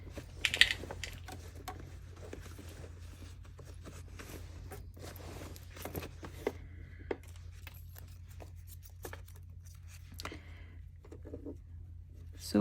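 A sewing machine stitches a false hem onto a pair of pants, producing quiet, irregular mechanical clicks and short whirring bursts over a low steady hum, with pauses between runs.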